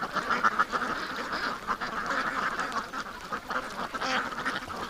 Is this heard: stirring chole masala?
no